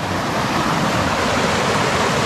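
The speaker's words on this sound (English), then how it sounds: "The rapid extends all the way from the far side through here. It's just boiling now." Flooded river rapid surging and boiling around a rock, a loud, steady, close roar of rushing water with no voices.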